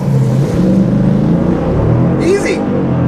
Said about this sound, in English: It says to launch, press brake and apply full throttle.